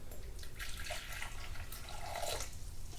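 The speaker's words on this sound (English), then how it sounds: "you're going to put in a cup of hot water" Hot water just below boiling is poured into a cup for a homemade popsicle recipe, a soft, continuous trickle and splash of liquid heard close by for a few seconds.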